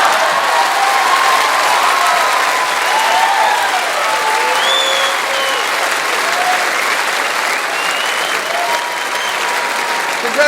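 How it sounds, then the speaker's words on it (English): Loud, sustained applause from a large awards-ceremony crowd for a Gold Logie winner, dense clapping filling the whole stretch with scattered whoops and cheers rising above it. "One more round of applause, please, for our gold Logie winner, Hamish Blake."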